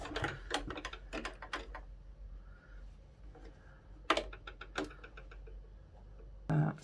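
Short rapid bursts of a machine stitching elastic onto a wire frame hat, stop-start clusters of quick mechanical ticks separated by pauses, close and fairly quiet.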